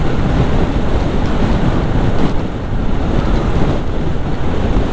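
Sea waves surge and break continuously along the shore at Rameswaram, buried under loud, steady buffeting of strong wind on the microphone, with no voices.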